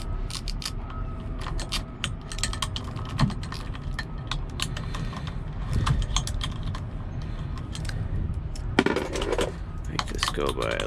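Metal sockets clinking and rattling while a Grip Royal steering wheel is fitted, with a 1/2 inch socket in use; sharp close taps and jangles recur over steady background noise.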